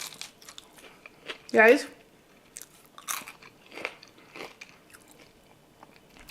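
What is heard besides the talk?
biting and chewing crispy air fryer french fries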